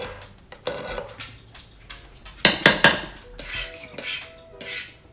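A large pancake spatula scrapes and clinks against a pot while mixing shredded buffalo chicken, a few sharp metallic knocks mid-way and softer stirring strokes, with one short spoken word.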